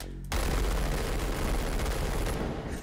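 Full-auto gunfire in the VR shooter Hot Dogs, Horseshoes & Hand Grenades, a sudden sustained loud burst of rapid shots that runs almost three seconds without a break and has no talk over it.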